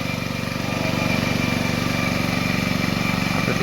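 Tractor working a flooded rice paddy during transplanting in Konkan, a steady close engine drone with throbbing low rumble running continuously throughout.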